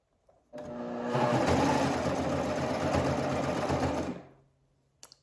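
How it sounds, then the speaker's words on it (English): At close range, a serger overlock sewing machine stitches a seam on a gathered peplum dress in one steady, loud run of about three and a half seconds, then stops, with quiet before and after. "I'm going to lay them back just like this and start serging all the way around."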